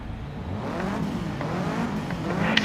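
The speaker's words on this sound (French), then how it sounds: "Ce bruit de pot d'échappement est juste énormissime." A Subaru Impreza's engine and exhaust in the racing game Forza Horizon 3 roar steadily, a rising, revving engine note with rumbling exhaust, fairly loud and alone with no talk.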